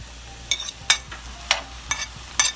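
Chopped onion stirred in a pan for empanada filling, giving short scraping stirs and light sizzles at a steady, irregular pace, close and fairly quiet with no talk.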